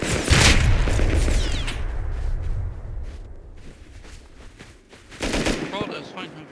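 Gunfire in the survival game Rust: a loud burst of rapid automatic shots at the start, a quieter stretch, then another sharp volley of shots near the end.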